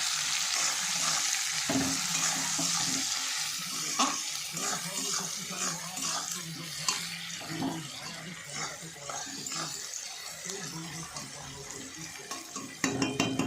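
Onions frying in a pan while being stirred, a steady sizzle broken by repeated scraping and clattering stirs at close range, with a voice talking over parts of it.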